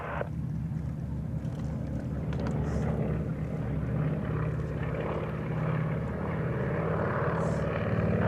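Two Beechcraft Model 17 Staggerwing biplanes run their radial propeller engines, a steady loud droning rumble with a buzzing throb that holds throughout, with no talk.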